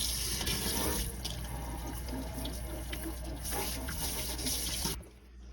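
Tap water pours steadily into a stainless steel sink during a rinse, a close, broad rushing splash that runs unbroken and then cuts off abruptly near the end.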